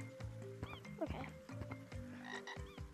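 Frog croaking in the Gorilla Tag video game, a string of short, rhythmic croaks repeating close up against a busy game soundscape.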